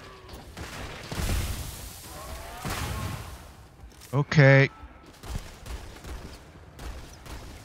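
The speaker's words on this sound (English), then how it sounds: "Got explosions everywhere." Gunfire and explosions from a Starfield space combat game rattle in bursts, with a sharp, loud crack midway among muffled blasts, while a player talks briefly over the action.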